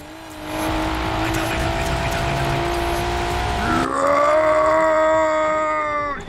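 A car engine in Forza Horizon 4 holds a loud, steady drone, then the pitch drops and climbs again as the gear changes near the end. The sound is close and continuous, with tire noise beneath it.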